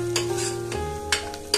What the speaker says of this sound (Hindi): अब इसे भी अच्छे से फ्राई कर लें।